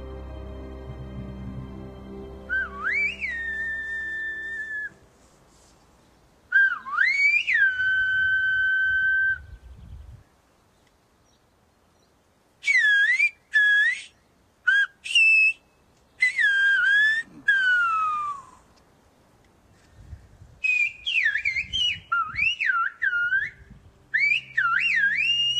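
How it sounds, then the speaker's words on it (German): Silbo, the whistled language of La Gomera in the Canary Islands: loud, sweeping whistled phrases that rise and fall in pitch, given in separate bursts with short pauses between them, and no speech heard. "Der Silbo, die Pfeifsprache der Guanchen, hat auf La Gomera wohl deshalb so lange überdauert"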